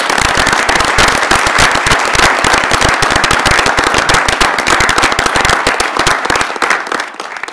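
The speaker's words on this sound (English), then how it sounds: "let's give them a round of applause" Dense, sustained applause from an audience at a university board of regents meeting, loud and close, with rapid overlapping claps filling the whole stretch and tapering slightly at the end.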